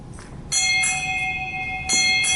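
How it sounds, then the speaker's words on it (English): Ship's bells rung six times at a naval change of command ceremony at Naval Hospital Lemoore, clear ringing strikes in paired rhythm, loud and close with a lingering metallic ring and no talk over them. "Sound 6 bells."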